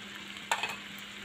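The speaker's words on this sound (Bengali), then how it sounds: "আদা রসুন পেস্ট দিয়ে দিলাম, দিয়ে আবার একটু নাড়াচাড়া করে দিয়ে দিলাম" Ginger garlic paste stirred into hot oil in a pan while making a sweet and sour raw mango pickle: a soft steady sizzle with a brief burst of scraping and spattering midway, short and fairly close.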